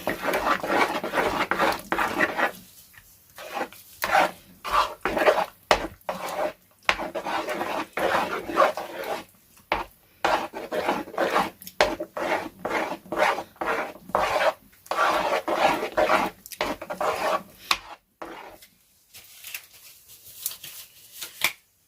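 Lotion ingredients being mixed with propylene glycol, a repeated close scraping and rubbing rhythm in bursts with short pauses, alone without talk.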